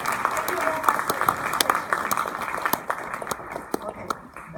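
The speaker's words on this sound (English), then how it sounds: "a round of applause for our audience" Audience applause after a Peking opera performance, a crowd clapping that thins toward the end, with a voice talking over it.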